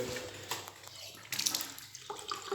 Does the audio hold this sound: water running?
yes